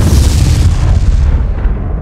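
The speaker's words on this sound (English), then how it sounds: "That was a big ass explosion, though." Forty-four satchel charges detonating together at a sniping tower in a video game, one huge loud blast whose heavy rumble fills the clip and fades near the end.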